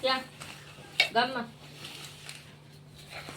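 Churma ladoo mixture is mixed quickly in a metal vessel, close clattering and scraping strokes with a few sharp clinks, while a voice speaks over parts of it.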